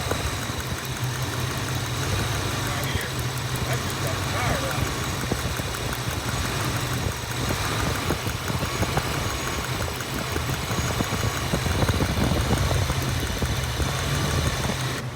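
A Ford Foxbody car engine idles with a misfiring cylinder, giving a constant, close, low throbbing hum that keeps a steady level for the whole stretch.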